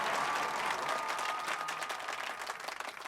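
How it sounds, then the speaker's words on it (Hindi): Applause from a crowd at a political gathering, dense steady clapping filling the whole stretch at close range, with no voices breaking through. "भगवान ने हाथ दिए तो किसी भी बात पर उनसे ताली बजाओगे।"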